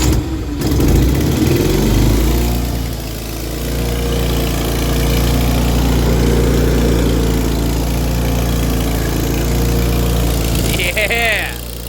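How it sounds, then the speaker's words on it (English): An engine-driven welder is cold-started in snow and 20-degree weather, its engine catching and settling into a steady, loud idle that runs for most of the stretch, with a person speaking over it. "Let's get the old cold start on the welder again"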